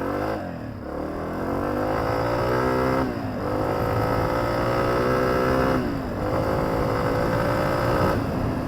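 A Honda CRF250F dirt bike putters along in first gear at very low speed without the clutch. Its steady, loud, near engine drone holds throughout, with brief dips in revs around the third and sixth seconds, and no voices.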